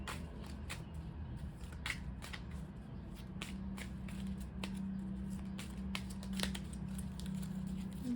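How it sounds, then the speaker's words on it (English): A deck of oracle cards being shuffled by hand at close range, with a run of crisp riffling snaps and soft paper shuffles over a low background hum. "Okay, 2 more shuffles, and I will draw."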